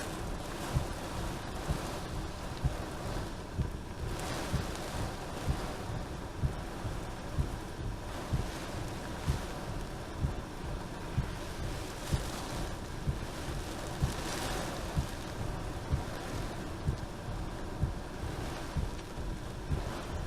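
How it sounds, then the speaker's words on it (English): Heavy rain and strong straight-line wind lash Ellsworth, Wisconsin, during a tornado warning, a dense continuous roar of downpour and buffeting gusts battering the microphone for the whole stretch, loud and steady with no voices. "Very heavy rain. Very, very strong wind right now across Ellsworth."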